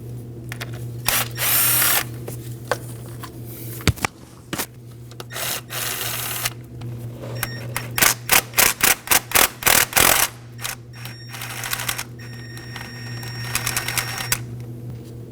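A power tool removes the 8mm bolts that hold the coil packs to the valve cover on a 2009-2014 Ford F-150 3.5L V6. Close, loud drill bursts come first, then a quick run of about eight sharp, rhythmic ratcheting pulses, with no talking.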